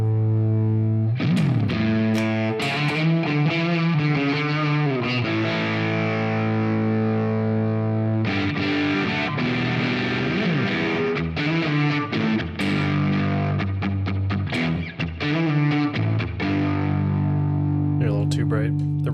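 An electric guitar played through a Beetronics Fat Bee overdrive pedal, with sustained distorted chords and single-note phrases, brief pauses between passages, and reverb trailing the notes.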